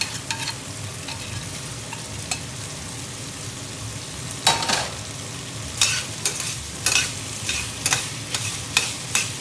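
Shrimp frying in hot olive oil for garlic shrimp with pesto, a continuous close sizzle broken by several sharp crackles and stirring clatters in the second half, no voices.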